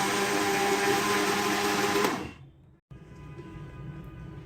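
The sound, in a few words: blending cake batter with powdered sugar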